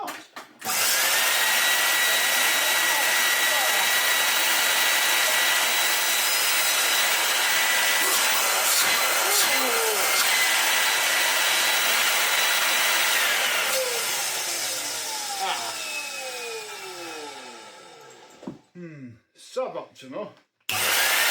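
A 1987 Numatic NV200 vacuum cleaner, its motor just repaired, runs with a loud, steady whine and a grinding noise for most of the time, then winds down with clattering at the end.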